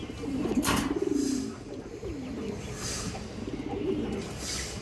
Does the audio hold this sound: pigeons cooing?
yes